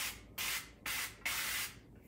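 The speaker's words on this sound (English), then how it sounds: "zero calorie cooking spray." Zero calorie cooking spray hisses from an aerosol can in three short, even bursts of about half a second each, close and clear with brief pauses between.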